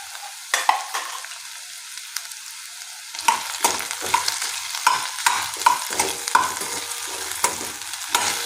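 Mixed vegetables frying in a pan and stirred with a spoon, making a series of close, crisp scraping strokes in an uneven rhythm over a light sizzle.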